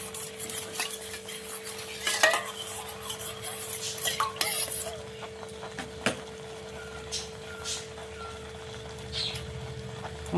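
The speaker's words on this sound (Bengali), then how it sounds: "সঙ্গে সঙ্গে এটাকে একটু নাড়াতে হবে, দইটা বসে যেতে পারে" Curd fish curry stirred in a pan, a spoon scraping and rubbing against the metal in close, irregular strokes over a faint steady hum, with no talk.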